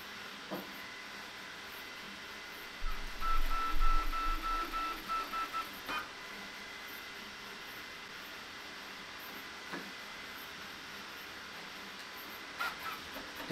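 Infinity Flow S1 auto filament changer on a Creality Ender 5 printer feeding filament, a brief motor whir of a few seconds rising out of a steady fan hiss, followed by faint clicks.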